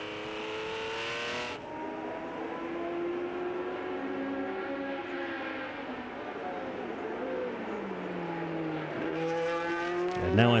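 Racing cars thunder around the circuit at the 2011 Spa-Classic, a Ferrari among them, engines droning loud and continuous with rising and falling pitch as they change gear, a brief burst of close engine noise at the end.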